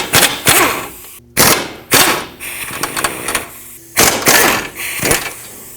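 Removing the 17mm nuts and bolt on a 2009-2015 Toyota Prius front suspension, with loud rattling bursts from an impact or ratchet wrench, several short runs separated by brief pauses, close up.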